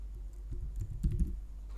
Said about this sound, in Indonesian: Kita coba ketik barat